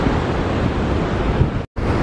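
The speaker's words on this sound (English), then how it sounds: "it's still burping more and more clean ocean water into the reeds over here" Ocean water surges with the rising tide into the reeds of the St Lucia Estuary, a broad, steady wash of surf mixed with wind buffeting the microphone, cut briefly by a moment of silence near the end.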